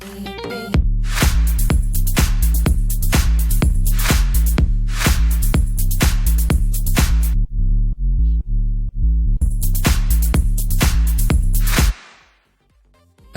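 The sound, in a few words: future house sub bass made with Sylenth1 synth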